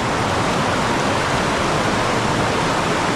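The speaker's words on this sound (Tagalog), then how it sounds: "Buti na lang yung ulan ngayon dito sa amin" Steady, dense hiss of falling rain, loud and unbroken throughout, with no voices or other distinct sounds.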